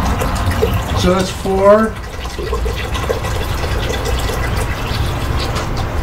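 Water pours from a container into a pot while Syracuse salt potatoes are prepared, a close, bubbling fill sound that swells briefly then settles into a steady trickle as a person speaks.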